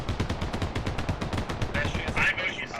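British command artillery in a video game urban battle at a downtown Narva intersection: dense rapid booming impacts and gunfire rattle continuously, with a brighter crackling burst near the end.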